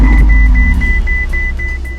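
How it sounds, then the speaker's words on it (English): A Ferrari 488 Spider started with its start-stop button settles into a loud, deep, steady idle rumble, with faint repeated electronic chirps over it. "just apply on the brake and press the engine start stop"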